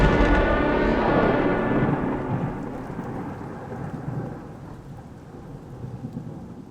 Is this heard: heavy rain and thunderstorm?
yes